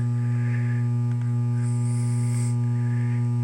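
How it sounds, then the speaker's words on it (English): A replica Zenith radio plays a steady, loud electrical mains hum sound effect, a constant low buzz lasting throughout with faint static above it and no voices. "the fake AC hum"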